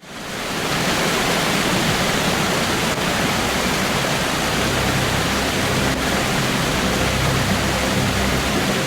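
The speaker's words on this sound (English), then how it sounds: "create a 30-second video of a waterfall flowing in the deep jungles of Amazon" A waterfall in a deep Amazon jungle pours in a loud, dense, unbroken rush of water that swells in within the first second and holds steady throughout.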